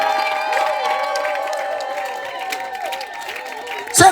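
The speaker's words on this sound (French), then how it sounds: "Quelqu'un acclame fort Jésus." A church congregation at a Sunday worship service cheers and acclaims Jesus, a loud, continuous mass of many voices that swells together and ends with a sharper burst.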